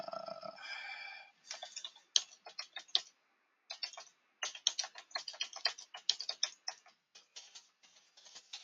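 Quick, crisp clicking of typing on a computer keyboard while writing into a text editor, in uneven bursts of keystrokes with short pauses and one longer gap, close and fairly quiet.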